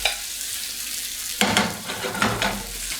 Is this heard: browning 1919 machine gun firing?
no